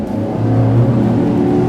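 Boat with three V8 350 engines throttling up on the water: a loud, close, deep engine roar that swells and then holds a steady heavy drone.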